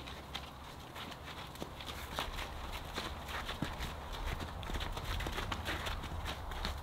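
Several geldings walk over ground with slushy snow in bright weather, their hooves clip-clopping in a steady overlapping rhythm alongside broadband outdoor noise and wind.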